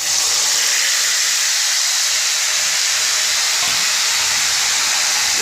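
Tomatoes tipped into hot oil with dry red chillies already fried, giving a loud, steady sizzling hiss that fills the whole moment without a break, with no voices over it.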